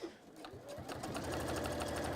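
A sewing machine stitches in a rapid, steady mechanical whir that speeds up into an even rhythmic clatter, close and moderately quiet.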